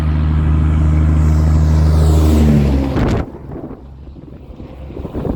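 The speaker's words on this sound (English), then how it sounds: "Gotta wait on a truck to go by." A loud truck rumbles past close by, its deep engine drone and wind-like rush filling the first three seconds before cutting off abruptly, leaving quieter low background noise afterward.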